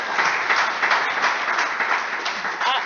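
An audience in a room claps for a speaker in a steady, moderately loud spatter of hands that lasts the whole stretch. A brief shout or whoop comes near the end.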